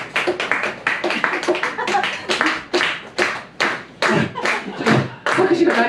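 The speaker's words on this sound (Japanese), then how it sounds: "拍手が鳴り止まない" Audience clapping after a live music performance, dense and sustained with uneven bursts and thumps, close and loud, with no voices breaking through.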